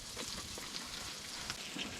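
Smoked salmon fries in hot oil inside a heated tent in a frozen winter forest, sizzling and crackling steadily with a few sharper pops, close by and fairly quiet, and nobody talks.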